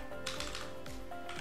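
Keys clatter on a computer keyboard as a command is typed, a few quick bursts of close, quiet clicks with short pauses between them.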